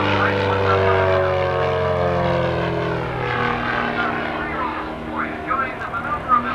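A highly modified Pitts Special aerobatic biplane performs at a 1987 Harlingen airshow, its piston engine droning steadily with a shifting propeller pitch as it maneuvers, fading somewhat toward the end, with a voice talking over it.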